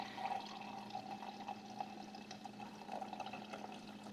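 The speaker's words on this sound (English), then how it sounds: "slowly pour the steamed milk into the latte glass" Steamed milk is poured slowly from a frothing cup into a latte glass, a soft, continuous trickle of liquid with faint gurgling, heard alone at low level.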